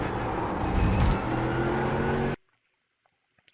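Mercedes AMG GT3 race car engine in iRacing, a loud sustained roar with rising revs and a quick short shift, cutting off abruptly into near silence with a few faint clicks.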